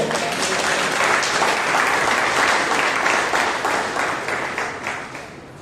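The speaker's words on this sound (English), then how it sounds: "Can you give a big clap to the Lord?" A congregation at a Monday prayer meeting bursts into loud, dense applause that holds steady and then fades toward the end, with no talking over it.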